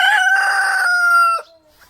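The only rooster in a small backyard flock of chickens gives one loud, close cock-a-doodle-doo crow that ends abruptly, followed by near silence.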